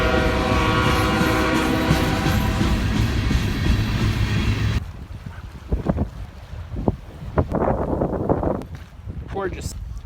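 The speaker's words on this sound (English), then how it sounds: "Looks like the train's gonna win." A loud train rumbles past with a long sustained horn blast, then cuts to quieter rattling and clacking with a voice speaking briefly.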